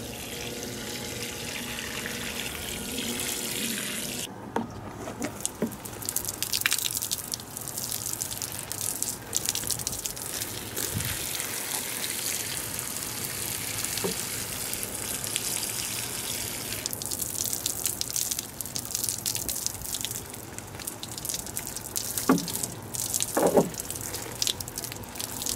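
Water running and splashing as potted citrus trees in containers, including a Shinoto orange, are watered and fertilized in fall, a steady gush with occasional drips and a brief squishy thud near the end.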